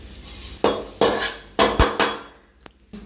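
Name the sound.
transferring roasted moringa leaves into another pot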